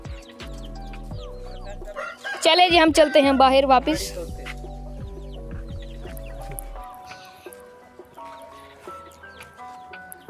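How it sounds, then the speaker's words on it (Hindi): Desi roosters crowing and clucking on a farm, a loud burst in the middle over a busy backdrop of other fowl calls, with someone talking throughout. "इधर से भी मुर्गे कुछ बांगे दे रहे हैं"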